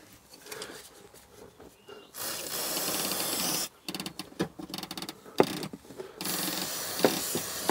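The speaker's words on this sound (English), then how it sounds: "You can hear sort of the ratchet inside squeaking." Intermittent mechanical ratcheting and squeaking from an Audi TT's noisy, poorly retracting seatbelt retractor, with bursts of broadband rasping noise and brief clicks, fairly close.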